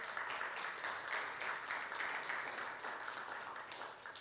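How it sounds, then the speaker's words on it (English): Audience applause at the launch of Amazon Prime Original's web series Breathe, a soft but dense clatter of many hands clapping steadily for about four seconds, with no voices over it. "Give yourselves a big round of applause."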